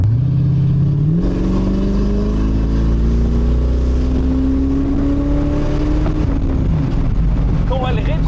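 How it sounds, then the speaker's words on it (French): A 1980s Chevrolet Corvette C4 V8 roars loudly up through the revs under hard acceleration, its pitch rising steadily and then dropping as it shifts, with strong wind buffeting throughout and a person speaking over it. "t'as le moteur qui te hurle dans la gueule"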